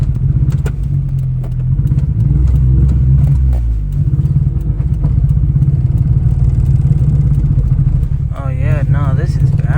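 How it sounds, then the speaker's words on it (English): Engine of a Suzuki Alto Works CR22S with a misfire, about to stall while struggling uphill, a loud uneven low chugging with stumbling beats and rough surges, a brief whistling whine near the end. "Look, the car's about to die again."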